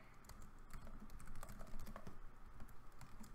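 Steady, quick keystrokes on a computer keyboard, a close and continuous run of light clicks with no voices.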